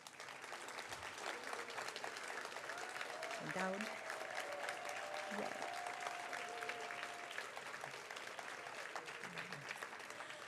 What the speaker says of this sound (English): let's give all of these people a lovely round of applause